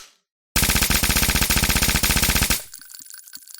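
An automatic firearm in an Unreal first-person shooter framework fires a loud, rapid sustained burst of about two seconds, each shot sharply repeating, followed by brief metallic tails and faint clinks as it stops.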